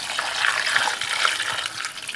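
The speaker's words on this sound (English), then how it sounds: "And I'm going to get some water in." Water is poured steadily into a pot of chicken pieces for making stock, giving a loud, continuous splashing gush close by with no talking.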